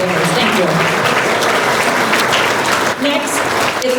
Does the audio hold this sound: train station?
no